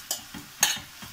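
Mushrooms being stirred into a frying tomato masala for mushroom biryani, with a few quick scraping strokes of a spoon over a low sizzle, close and brief, with no voices.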